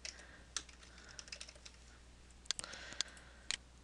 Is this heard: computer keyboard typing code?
yes